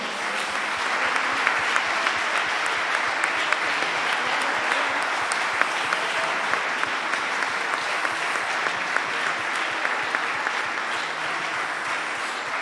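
A church congregation at a Sunday evening service applauds steadily, a continuous, even wash of many hands clapping at moderate volume with a faint underlying rhythmic pulse throughout.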